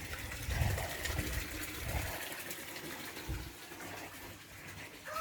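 Rainwater runs from a gutter propped on a star picket and bricks into a main house tank, making a steady close gushing, splashing flow with low gurgling pulses and no voices.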